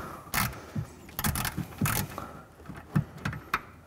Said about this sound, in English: go ahead and unscrew this. Once you get it to about here, you can just use that little ratcheting function